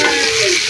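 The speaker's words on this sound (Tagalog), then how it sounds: "Kunting halo-haloin lang natin" Squid adobo with tomatoes gets stirred in a hot pan, a loud close sizzle with scraping stirring over it in one brief continuous burst.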